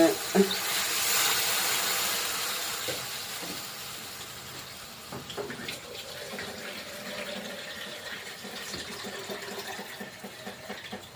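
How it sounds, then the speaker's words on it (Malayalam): Water splashes and hisses into a hot pan, a loud gush at first that settles into a steady steaming sizzle. "വെള്ളം ഒഴിക്കുവാണ്"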